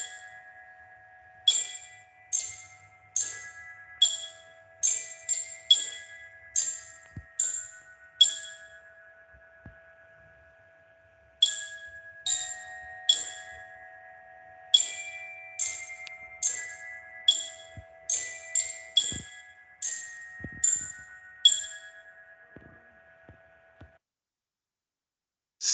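A mechanical glockenspiel strikes bright, metallic bell-like notes one at a time in a simple, evenly paced melody, with a short pause partway through.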